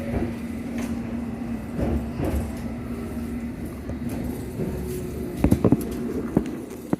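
A London Underground Piccadilly line train pulls into Uxbridge, a low steady rumble with a humming drone, rail clatter and a few sharp knocks and squeals near the end as it slows.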